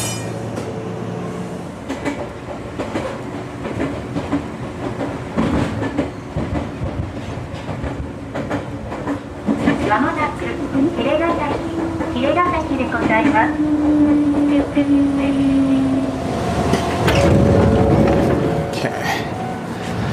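A retro commuter train near Tokyo, Japan, rumbles along with steady rolling wheel noise, a rising electric motor whine and a brief squeal, heard from on board with people talking over it.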